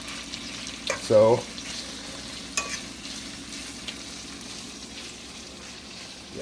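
Bacon frying and crisping in jalapeno-infused oil, a steady low sizzle with a brief louder burst of stirring or movement in the pan, heard close with a single short spoken word.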